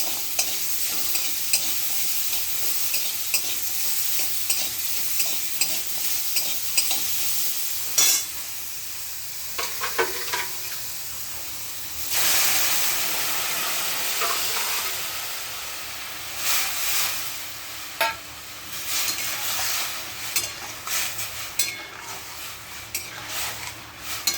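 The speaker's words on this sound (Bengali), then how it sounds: "এবার কষিয়ে নেবো, তারপরে জল দেবো।" Food sautéing in a pan with salt and turmeric, giving a steady close sizzle and hiss with bursts of stirring and scraping throughout, louder surges of frying midway, no talk.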